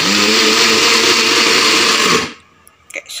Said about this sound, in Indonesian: Oke guys, jadi bahan-bahan tadi udah saya blender nih